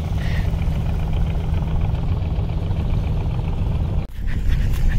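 Kirtankhola 10 river launch drawing near with its engine, a steady low hum and drone running throughout at a constant level, with a brief dip near the end.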